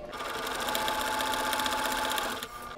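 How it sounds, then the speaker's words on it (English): A sewing machine stitches quilt block units together in one continuous fast, rhythmic run of needle strokes, close and clear, stopping briefly near the end. "I'm just sewing the top two units together into a two patch"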